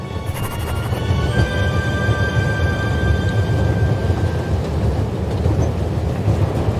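Moving train in The Raven, a loud, continuous rumbling roll with rhythmic clatter and a sustained metallic squeal of wheels, steady from start to finish.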